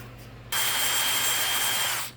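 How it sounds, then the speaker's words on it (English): A power drill bores into JB Weld on a rifle scope mount, starting abruptly with a steady high-pitched whine that holds for about a second and a half before winding down, close and loud. "The drill just doesn't work very well on this, but I had good luck with the reamer."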